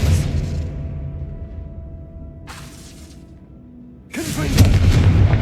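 Expelliarmus disarming spell cast in Hogwarts Legacy, a whooshing burst trailing off, a brief swish, then a sharp crackling impact with a booming tail.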